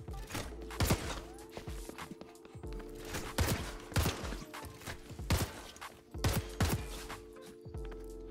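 Rapid gunfire on a Ubisoft crossover map in the video game Rainbow Six Siege: sharp, close shots crack in uneven clusters over a steady mechanical hum, with occasional clattering between volleys.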